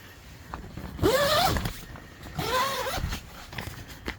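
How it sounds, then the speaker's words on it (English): Two zips of a tent zipper, each a rising drawn-out rasp about half a second long, close by, with faint handling noise between them. "The zippers work very good."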